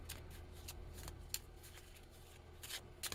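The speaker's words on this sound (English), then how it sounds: "So we'll shuffle them now." Race action cards from a handicap horse racing board game being shuffled by hand, a soft papery riffle with several sharper snaps and flicks near the end, close and fairly quiet.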